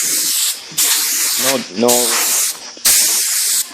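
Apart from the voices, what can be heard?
compressed air blowing on vinyl seats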